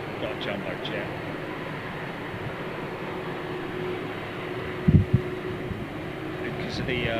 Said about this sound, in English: Hey, look, we've got a jumbo jet.